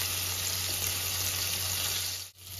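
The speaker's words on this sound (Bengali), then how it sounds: "এক পিঠ ভাজা হয়ে গেছে, আমি উল্টে নিয়েছিলাম। এবার আর এক পিঠ ভাজা হচ্ছে।" Boal fish fry in oil with a dense, even sizzle that holds steady, then briefly dips near the end before resuming.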